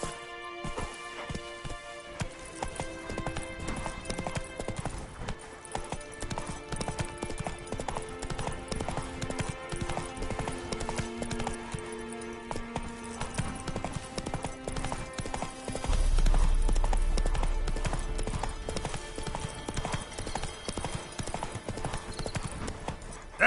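Horse hooves clip-clop steadily at a gallop in the video game Witcher 3, a rhythmic clatter running throughout over a game soundtrack, with a brief low rumble late on.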